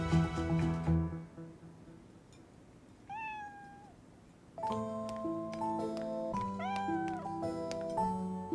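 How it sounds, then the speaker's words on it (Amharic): A house cat meows indoors, giving a few drawn-out, wavering meows spaced across the stretch, clear and fairly close over steady musical tones in the background. "ዙሪ፣ ይህ ድመት ለምንድን ነው የሚገባው?"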